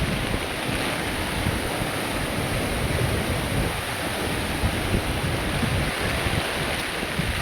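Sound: strong wind and flooded river

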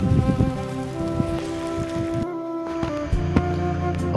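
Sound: rain starting to fall

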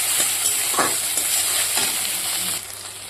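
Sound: frying food in oil until reddish brown

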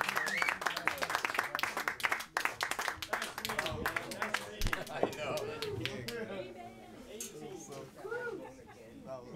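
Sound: audience applauding after a live jazz quartet performance

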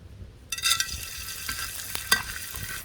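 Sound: frying edible gum in ghee

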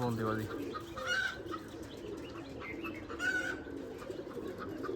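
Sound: pigeons cooing

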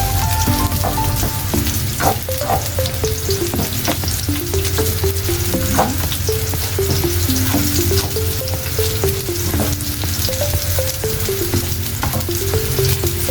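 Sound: onions sizzling as they fry in a pan

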